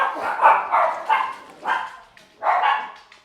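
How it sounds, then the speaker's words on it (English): Dogs bark loudly and close by in a quick run of five or so sharp barks, with short gaps between them and no other sound. "sorry we got interrupted by the dogs"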